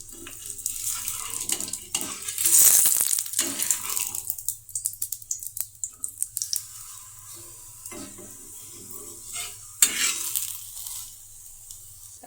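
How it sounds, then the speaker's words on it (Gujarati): Farali paratha sizzles in a pan while a spatula scrapes and stirs around it, with repeated clinks and scraping strokes over a steady frying hiss and no talk. "આ રીતે આપણે તેને તાઈથાની મદદથી હરખું કરી અને પછી તેને પલટાવી લેવાનો."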